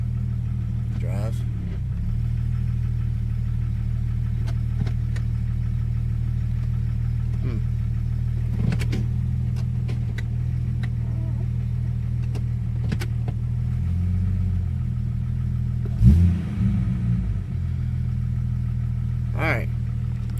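A 1997 Jeep Grand Cherokee engine with a starting and stalling fault runs with a steady, slightly uneven low idle throughout, rising briefly in a rev near the end, with faint clicks and a voice talking at times.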